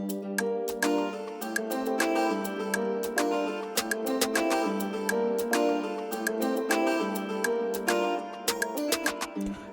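An Afrobeats beat built in FL Studio carries a percussion loop, sharp ticking hits clicking in a quick repeating pattern over sustained melodic layers, loud and without voices.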